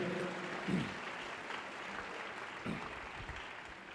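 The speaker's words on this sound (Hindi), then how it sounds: "ताली बजाओ और प्रभु का थैंक्स करो चर्च।" Church congregation clapping in praise during a Hindi service, a steady wash of many hands throughout with a few louder bursts, no speech over it.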